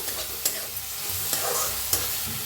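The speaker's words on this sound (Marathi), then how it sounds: "चांगलं भाजून घेऊया कांद्याला" Finely chopped onion frying in oil, a close, continuous sizzle with a few sharp scrapes and taps as it gets stirred.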